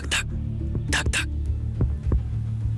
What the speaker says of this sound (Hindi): इस दौरान उसकी दिल की धड़कनें भी बहुत तेज थी।